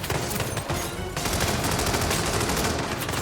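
Continuous loud gunfire in the Hitman video game, rapid automatic bursts packed tightly together, with a brief dip before the firing resumes just as dense.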